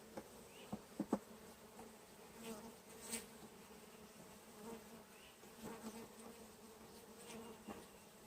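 Agitated honeybees buzzing in a hive just after a package install, a constant faint drone of many wings with occasional sharp taps and louder passes near the listener.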